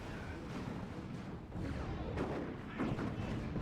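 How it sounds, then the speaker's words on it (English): A grenade launcher barrage in a Warhammer strategy game: a continuous rumble of overlapping muffled explosions and booms, with heavier impacts landing near the middle and end. "And the grenade launcher barrage."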